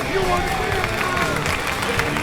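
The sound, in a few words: audience applause for race contestant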